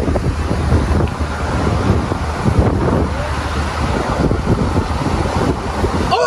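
Wind buffets the microphone alongside steady rolling surf at a crowded Florida beach, a loud continuous roar of waves and gusts with no voices.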